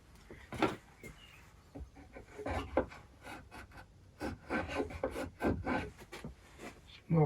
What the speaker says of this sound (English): Now I'm just going to use the marking gauge to mark the depth of the cut.